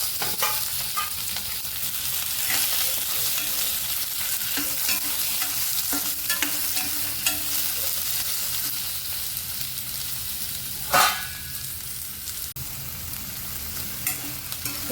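Onion and capsicum fry in a pan for veg Kolhapuri sabji with a continuous close sizzle, occasional stirring scrapes and one sharp utensil knock near the end.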